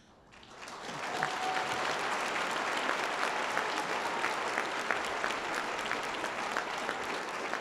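Applause swells from an audience at the 2018 Newbery-Caldecott-Legacy awards banquet, rising within a second into steady, dense clapping that carries on for several seconds with no speech.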